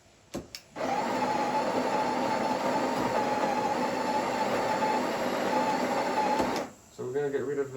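A Breville Barista Touch BES880BST coffee grinder purges grounds in one continuous loud whirring run of about six seconds, preceded by a couple of clicks and followed by speech.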